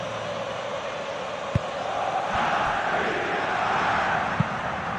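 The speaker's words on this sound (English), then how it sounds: "the crowd clearly like what they just saw" A football stadium crowd reacting to a defensive play, a broad continuous roar that swells midway and holds, heard from a distance with a couple of sharp knocks.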